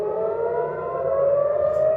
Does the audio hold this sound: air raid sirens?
yes